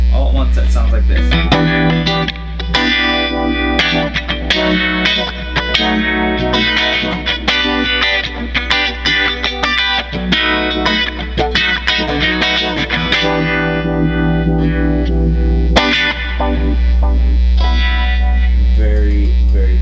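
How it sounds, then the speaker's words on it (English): An electric guitar runs through an analog flanger, U-Vibe, phaser and ducking reverb on a Line 6 HD500 multi-effects unit, playing loud, distorted, swirling strummed chords with sweeping modulation and long reverb tails. "But this is a flanger, analog flanger, and this is the U-Vibe"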